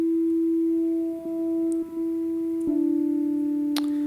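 A steady, pure sine tone from an FM synthesizer in Ableton Live 11 holds with a few faint harmonic lines above it, then shifts slightly partway through, with brief clicks near the end.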